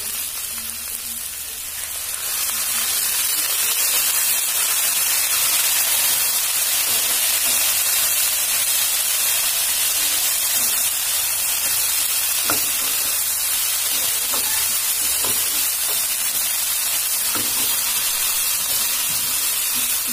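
A splash of water hits a hot pan of soya filling, and a loud hiss rises after about two seconds into a sustained, bright sizzling steam with occasional small pops.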